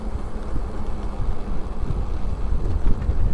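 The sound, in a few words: wind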